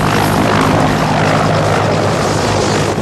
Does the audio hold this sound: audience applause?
no